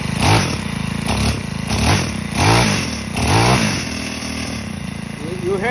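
A Senix 4-stroke weed eater engine runs close by, its rough idle chugging and swelling in a few throttle surges before settling back to a steady putter.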